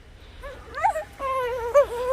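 A startled puppy whimpers and yips in several high, wavering cries, close by and fairly loud, with short pauses between them.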